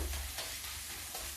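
Masala frying in hot oil in a pan for cabbage sabzi, with a steady close sizzle and scraping stir strokes, no talking.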